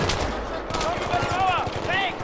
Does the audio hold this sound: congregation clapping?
no